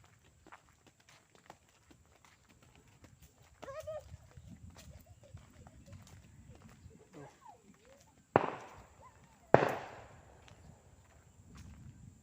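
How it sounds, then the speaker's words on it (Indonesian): Firecrackers set off outdoors at a tourist spot with high cliffs, two sharp loud bangs a second apart with short echoing tails, preceded by faint footsteps and quiet murmuring voices in the background. "ana wong dolan mercon iki"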